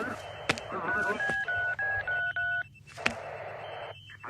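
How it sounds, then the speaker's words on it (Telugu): A telephone keypad dials a number, a quick series of distinct beeps with sharp clicks between them, sounding clearly and fairly close in an action thriller scene. "ఫోన్ చేయవయ్యా."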